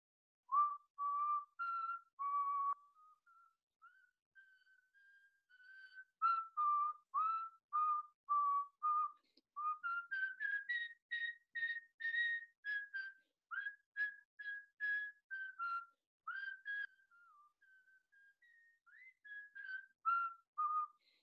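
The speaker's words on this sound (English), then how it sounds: "next one I'm going to whistle" Someone whistling the British national anthem during a children's online group call, a clear solo melody of short and held notes, fairly quiet and close, with no talk over it.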